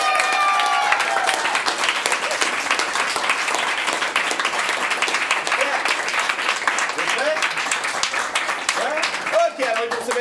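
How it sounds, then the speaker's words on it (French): An audience at an improv theatre show, the last performance of the season, applauds the actors with steady, dense clapping filling the room for about ten seconds, as voices and a few cheers come through the crowd. "applaudissez-les encore une fois"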